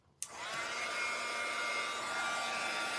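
A hair dryer switches on with a sharp click and then blows in a steady, close, loud whoosh, used to dry paint on a small wooden Fourth of July sign; no one speaks.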